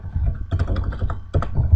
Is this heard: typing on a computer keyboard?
yes